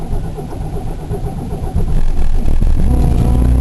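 A Buick LeSabre's engine cranks briefly and catches, then settles into a louder steady idle hum, close up with no voices.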